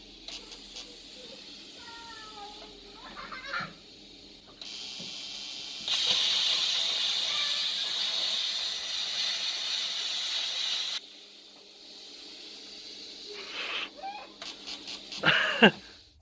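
A cheap Cut 50 plasma cutter, brand new, cuts metal with a loud steady hiss lasting several seconds, framed by shorter hissing bursts, clicks and handling noises before and after.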